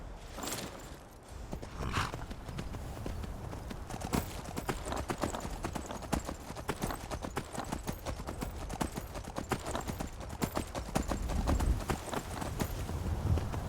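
Horse hooves clip-clop steadily across Skyrim terrain in the game, a continuous rhythmic trot with close, dense hoofbeats throughout.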